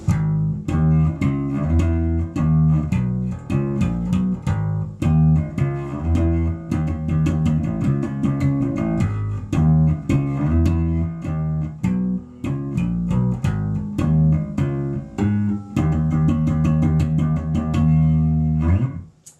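A bass guitar plays the verse line of a song at a slow tempo, a steady stream of plucked, close, loud notes with a bouncy circus-like lilt running continuously for about twenty seconds, no talking.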